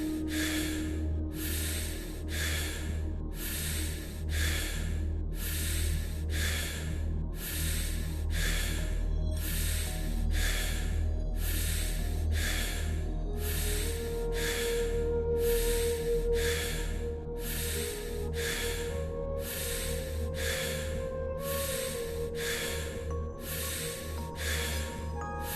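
Deep meditative breathing during a breathwork session, a slow regular series of loud airy inhales and exhales repeating about once a second, close and intimate over a low steady background hum, with no talking.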